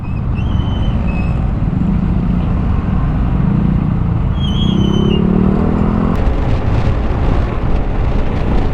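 A motorcycle running on F2R fuel pulls along a highway near Imus, its engine a loud, continuous rumble with a brief rising surge partway through, mixed with heavy wind buffeting on the microphone.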